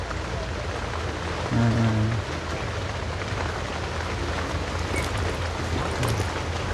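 Steady rain falls throughout, making a dense, even hiss with no break, and a brief low voice-like sound rises above it for a moment early on.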